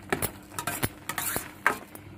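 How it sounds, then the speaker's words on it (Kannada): A spoon stirs a coconut mixture boiling in a pan: a run of close, irregular scraping and clinking strokes against the pan with a soft simmer underneath, and no voices. "ಕೈ ಆಡ್ತಾನೆ ಕುದಿಸ್ಕೊಂಡಿದ್ದೀನಿ ನೋಡಿ ಚೆನ್ನಾಗಿ ಕುದಿತಾ ಇದೆ"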